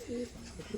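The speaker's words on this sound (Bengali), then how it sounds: "আজকে গররা কবুতর খেলা আছে।" Garra pigeons cooing close by, a short soft low throaty coo repeated over faint background noise.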